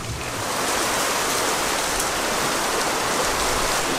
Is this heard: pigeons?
no